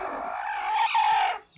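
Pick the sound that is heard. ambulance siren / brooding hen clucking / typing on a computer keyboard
brooding hen clucking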